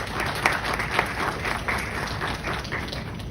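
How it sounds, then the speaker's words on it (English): Audience applause at a graduate management convocation ceremony, a steady wash of many hands clapping at once in a large hall, with a couple of sharper louder claps standing out near the start. "So I think for that we all need an applaud for all of us."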